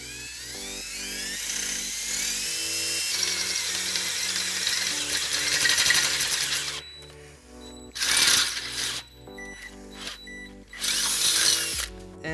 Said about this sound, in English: Now we're gonna use a 3/8 drill bit to drill that out.